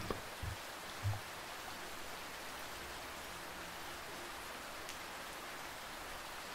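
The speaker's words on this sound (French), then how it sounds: "la musicalité et le rythme de la pluie qui tombe" Steady soft rainfall, a dense even patter with no pauses, calm and continuous throughout, with a couple of faint low thumps near the start.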